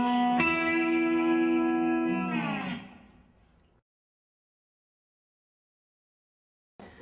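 Slide guitar note held with vibrato, then sliding down and fading out, followed by a long silence and a brief new sound at the very end.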